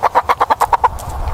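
Rooster in a children's cartoon story clucking as it eats grain: about eight quick, evenly spaced clucks, loud and close, then a quieter tail of softer noise.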